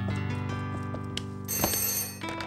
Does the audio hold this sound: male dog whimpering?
no